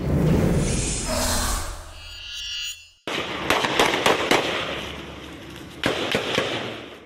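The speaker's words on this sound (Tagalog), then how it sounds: "Sunod-sunod na putok ng baril ang malingaw-ngaw sa barangay Tuayan 1 sa Dato Cofer, Ampatuan, Maguindanao del Sur." Gunfire in an armed clash in barangay Tuayan 1, Datu Hoffer, Ampatuan, Maguindanao del Sur, rings out as repeated sharp cracks. Some shots come singly and some in bursts, echoing outdoors after a brief break in the sound.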